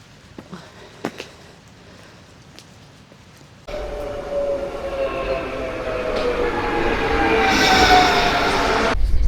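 Inside a passenger train in Sweden, quiet at first with a few faint knocks, then a steady rumbling roll that builds as the train picks up speed, with a thin whine rising over it.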